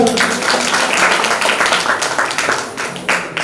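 A crowd at a birthday magic show claps loudly, a dense run of applause sustained through the whole stretch, with a few individual claps standing out and fading slightly toward the end.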